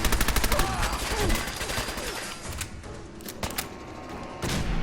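Gunfire in Fallout 4: a fast, loud automatic burst at the start, followed by scattered single shots and thuds over a busy background, with more shots near the end.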